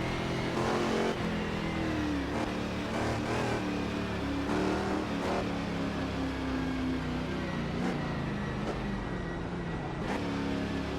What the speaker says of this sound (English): The Chaparral slides all over the track's bumpy surface.